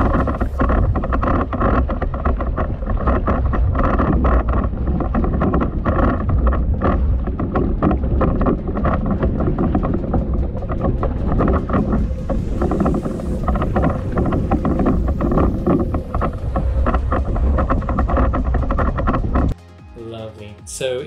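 Foiling Moth sailboat racing across the water, with steady loud rushing wind buffeting the microphone and water hiss throughout, cutting briefly quieter near the end.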